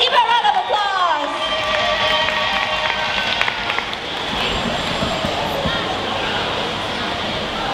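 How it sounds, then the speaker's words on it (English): An audience applauds and cheers a dance performer, a busy roar of clapping and crowd noise under a voice at the start, with music fading in as the applause carries on. "Please give her a round of applause"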